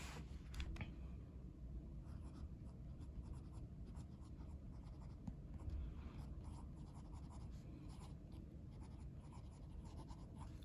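A Gravitas Pens Quark fountain pen with a steel number 6 fine nib, slightly dry after days unused, scratches across paper in a faint, continuous close-up scribble.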